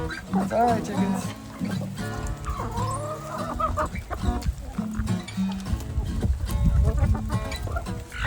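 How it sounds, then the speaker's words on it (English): Several chickens cluck and murmur while pecking at porridge near a coop, with a person talking over their soft, irregular clucks. "enjoy the chickens eating"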